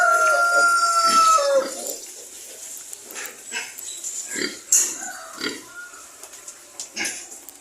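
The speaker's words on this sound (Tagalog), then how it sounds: "mga baboy na mga native natin" Native pigs on a farm grunt and squeal in short, repeated bursts near by, with chickens and a rooster crowing faintly at the start amid general farmyard noise.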